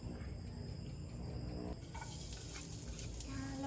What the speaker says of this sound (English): It just takes about 2 minutes to fry this shrimp.